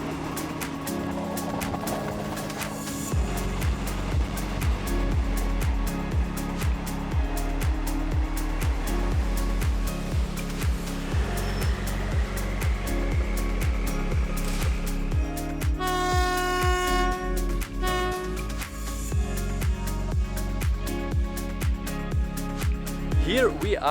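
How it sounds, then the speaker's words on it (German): Old train rattling along the Death Railway near Kanchanaburi, Thailand, with wooden benches and open windows and doors: a loud, steady clattering rumble with rhythmic wheel knocks throughout, plus a brief squealing tone partway through, with a voice talking over it. "So macht Zugfahren richtig Spaß hier. Alles ein bisschen älter, alles am Rattern, laut"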